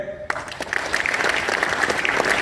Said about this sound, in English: So clapping for him